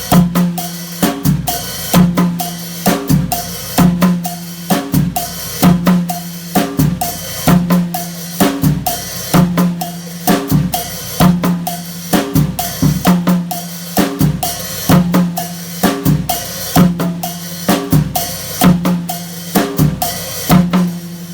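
A full drum set groove layers a scraped guiro pattern, a left-foot splash, hi-hat, snare, tom-tom and cowbell, the cowbell added back into the mix, producing a steady, loud, evenly repeating rhythm over about twenty seconds with no talking.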